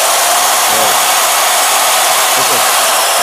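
A Bosch 1400-watt electric tree-cutting machine runs steadily with a constant high, airy whine, loud and unbroken throughout, with faint background murmurs but no clear talk.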